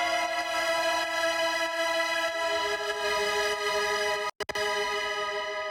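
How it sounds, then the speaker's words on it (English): Shimmer preset on Klevgrand synth strings: sustained, shimmering pad holding a bright chord, steady and smooth, with a brief dropout near the end before it resumes. "This is a shimmer preset."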